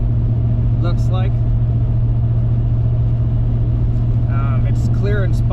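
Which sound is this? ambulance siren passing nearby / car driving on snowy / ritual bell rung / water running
car driving on snowy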